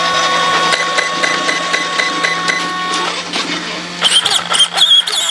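A Traxxas X-Maxx RC truck with a Max 6 ESC powers up and runs, giving a steady electric whine with tonal hum that drops away, then gives way to quick chirpy bursts near the end.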